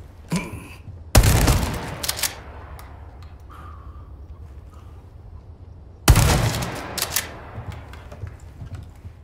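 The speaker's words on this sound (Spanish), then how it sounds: "Cuando escuchamos el disparo de la escopeta en Resident Evil 4" Two loud shotgun blasts from Resident Evil 4, each a sharp broadband crack followed by a reverberant tail that fades away, several seconds apart with quieter game ambience between them.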